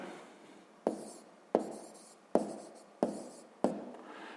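Handwriting during a math lesson gives five distinct scratchy pen strokes at a steady pace, each a sharp onset fading quickly, close and without speech.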